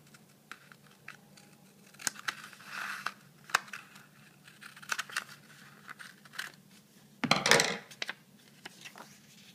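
Scissors cut open a paper circle with several faint snips and paper rustles, one louder crinkling burst near the end, in a quiet room.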